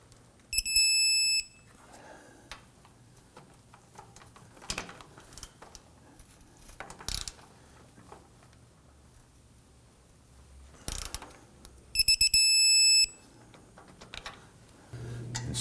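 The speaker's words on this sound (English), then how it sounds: "Let's torque these down to 59 foot-pounds." A torque wrench tightens the control arm bolts on a 2003-2014 Volvo XC90, with sharp ratcheting clicks and two bursts of high electronic beeping as target torque is reached, close by and separated by quieter handling noises.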